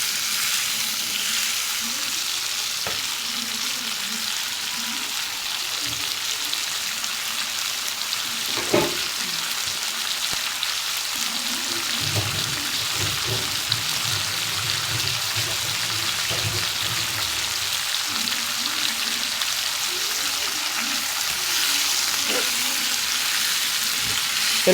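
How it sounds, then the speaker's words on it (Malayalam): Tomato chutney ingredients sautéing in oil in a pan, a steady soft sizzle and crackle running throughout, with occasional stirring scrapes and clinks over the continuous frying hiss. "ഈ എണ്ണയിൽ തന്നെ കിടന്ന് നല്ലതുപോലെ വഴറ്റിയെടുക്കണം"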